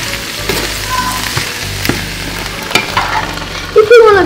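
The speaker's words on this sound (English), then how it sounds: "Give it a quick stir." Green beans and collard greens sizzle loudly in a hot pan as they are stirred, scraping and clinking of the utensil punctuating the frying, close up with no speech.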